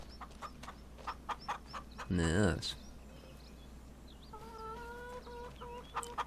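Farm chickens clucking in Farming Simulator 25, a run of short repeated clucks with one louder squawk in the middle, then more clucking, while someone talks over them.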